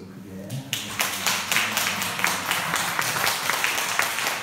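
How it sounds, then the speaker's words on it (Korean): A church congregation in a worship service breaks into loud applause that starts abruptly after a moment of quiet, then continues as steady, rhythmic group clapping. "우리 한번 박수를 크게 하겠습니다"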